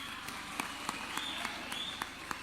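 A crowd in Embu, Kenya applauds the president, with faint, distant clapping and a few sharper individual claps standing out at irregular intervals.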